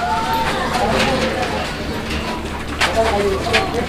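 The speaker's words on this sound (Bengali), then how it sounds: "আমরা এই মুহূর্তে দেখতে পাচ্ছি এখানে আরও এক জোড়া কবুতর" Pigeons for sale at a market coo repeatedly, close by and clear, over a steady murmur of background chatter and crowd noise.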